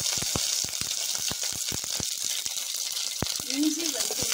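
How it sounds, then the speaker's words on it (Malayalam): Mustard seeds, curry leaves and green chillies sizzle in hot oil for a curd curry, a loud continuous frying hiss broken by sharp popping crackles scattered throughout. "കടുകിട്ട് കൊടുക്കാം. കറിവേപ്പിലയും പച്ചമുളകും ഇടാം."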